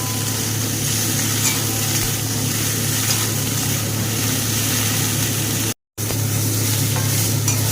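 Okra and tomato frying together in hot oil in a home kitchen, a steady loud sizzle with faint stirring scrapes, continuous and close with a brief dropout near the end.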